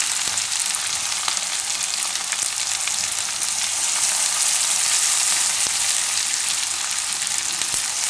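Asafoetida, curry leaves and turmeric temper in hot oil for a Gujarati khata meetha mag bhat, giving a loud, steady, close sizzle that crackles evenly throughout with no voices.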